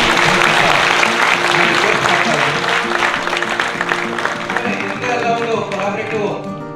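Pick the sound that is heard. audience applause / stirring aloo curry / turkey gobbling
audience applause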